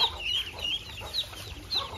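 A mother hen clucks in short, low bursts to a brood of ducklings, whose thin, high peeps break in between, close by and brief.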